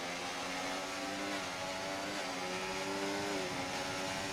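F1 race cars in the video game F1 24 on PS5 run in a long line, a steady, moderately quiet high-pitched engine drone that holds throughout with no talk.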